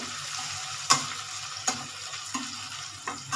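Onions sizzle and fry steadily in a pan, with a few sharp stirring clinks and scrapes at intervals over the continuous hiss. There is no talking.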